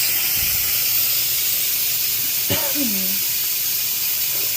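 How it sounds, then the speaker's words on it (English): Steam hisses from the pressure release valve of an Instant Pot Duo while eggs are being boiled, a loud continuous broadband hiss filling the whole stretch, with a brief squeaky tone and knock partway through. "carefully with your hand to the side, release the pressure. Steam's going to come out."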